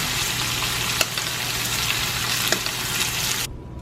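Shrimp and scallops cook in a pan, a loud, steady frying sizzle fills the scene with a couple of faint utensil clicks as they are mixed, cutting off abruptly near the end; no one speaks.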